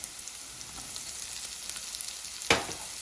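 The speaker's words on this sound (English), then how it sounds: "Now our onion is cooked, we'll add capsicum and corn in it." Capsicum and corn frying with onion in a pan give a steady, even sizzle throughout, broken once by a sharp clink of a utensil near the end.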